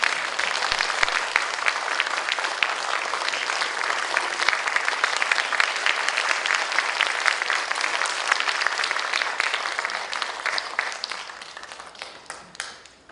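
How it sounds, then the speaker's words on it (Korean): Sustained, dense applause from a concert audience at a children's composition showcase fills the whole stretch evenly, then begins to taper and thin toward the end. "큰 박수 부탁드리겠습니다"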